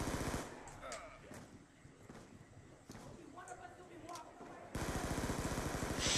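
Tommy gun firing in a zombie video game, rapid bursts of automatic fire at the start and again near the end, with game sounds between and a voice talking.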